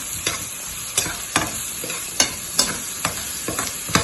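Chilli powder, ginger and garlic being stirred into a prawn and spinach curry in a pan: a soft continuous sizzle with regular spoon clacks and scrapes roughly every half second, close up and with no voices.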